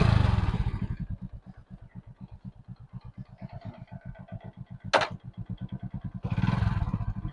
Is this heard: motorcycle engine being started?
yes